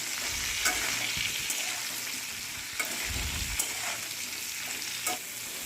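Ridge gourd and pui (Malabar spinach) stems fry in hot oil with salt and turmeric, a steady close sizzle broken by scraping stirs and a few soft knocks of the spoon against the pan.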